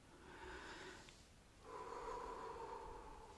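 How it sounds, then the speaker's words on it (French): During a quiet guided meditation, someone takes two slow, deep breaths, each a soft, airy inhale-exhale heard close and faint, with a short pause between them. "Puis je prends quelques respirations profondes."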